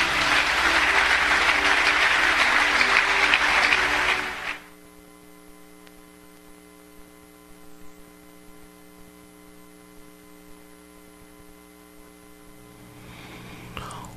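A church convention congregation applauds loudly for about four seconds, then the clapping cuts off abruptly, leaving only a low steady electrical hum with faint rustles until a brief swell of noise near the end.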